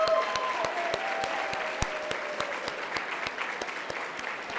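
Sustained audience clapping at a fundraiser event, sharp individual claps standing out over a steady wash of hands, continuing evenly throughout.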